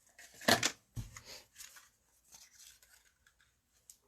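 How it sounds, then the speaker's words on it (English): Scissors snip through paper cardstock to trim off the bottom piece of a stamped tulip card project, a couple of sharp cuts followed by soft rustling and handling noises, close and quiet. "let's cut this bottom piece off."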